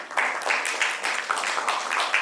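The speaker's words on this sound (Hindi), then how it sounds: "ये सही में ताली बजाने लायक बात है" An audience at a Greenpreneur national meet claps together, a steady patter of many hands that swells in brief waves, moderately loud and without talk.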